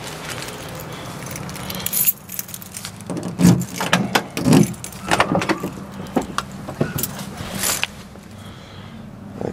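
A set of car keys jangles during a wiper blade replacement, with several short metallic rattles and clicks close by, plus some handling noise and faint car sounds underneath.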